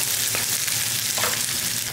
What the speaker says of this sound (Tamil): ஒரு கைப்பிடி அளவுக்கு சின்ன வெங்காயம் போட்டுக்கோங்க